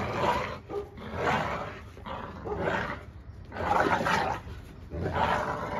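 American bully dogs growl and bark in several rough, roaring bursts separated by short pauses, close and fairly loud in a yard, with no speech.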